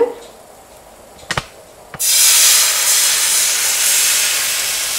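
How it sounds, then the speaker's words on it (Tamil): Spring roll wrapper batter hits a hot pan and breaks into a loud, steady sizzle that carries on to the end after a couple of light clicks beforehand. "இப்போ இதை லேசாக அடுப்புலேருந்து எடுத்துட்டு உங்கள் கையில் வச்சுக்கிட்டு அதுக்கப்புறம் மாவை ஊற்றலாம்."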